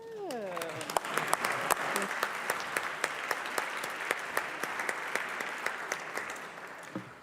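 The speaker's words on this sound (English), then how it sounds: "You see how you get applause" Sustained applause fills the House chamber during a state legislative floor session, dense steady clapping from many members lasting several seconds, with a brief voice at the start and the clapping tapering off near the end.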